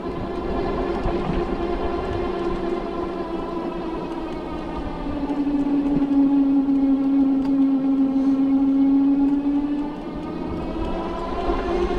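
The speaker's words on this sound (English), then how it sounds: "you can hear the motor. There's a little bit of a whine to it" A Superhuman (FLX) Bandit II moped-style e-bike with suspension climbs a hill on throttle, its electric motor holding a steady tonal whine that swells midway and eases, under continuous road and wind noise.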